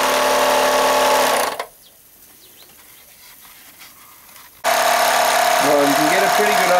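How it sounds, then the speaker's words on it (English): A Mamod single-cylinder toy steam engine on a steam boat runs with a loud, steady mechanical chatter at the start and again at the end, dropping away to near silence in between. "you can get a pretty good idea of how well this little engine runs"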